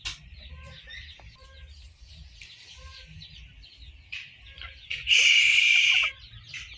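Backyard chickens cluck and chirp in short, scattered calls at moderate distance over a low background rumble, ending with a sudden loud, shrill squawk that lasts about a second.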